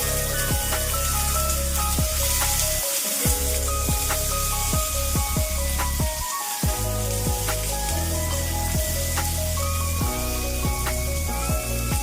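Green chillies frying with sesame seeds in a pan for gongura chutney give a loud, steady, close sizzle that hisses on without a break, with tonal music running over it.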